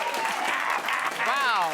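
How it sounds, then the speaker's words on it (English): A studio audience at a late-night talk show applauds in a steady, dense clatter under a voice that speaks over it and rises toward the end. "Applaud."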